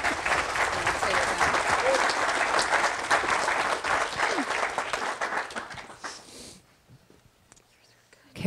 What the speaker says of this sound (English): Round of applause for Kristina.